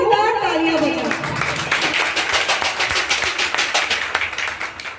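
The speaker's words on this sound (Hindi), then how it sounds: "तालियों से करें बच्चों का उत्साह और धन्यवाद।" Audience clapping for nursery school children at a school event, a dense, steady round of applause lasting throughout, moderately close, with some crowd voices mixed in at the start.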